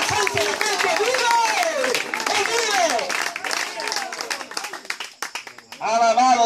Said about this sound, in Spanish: Aplauda, diga algo, espántalo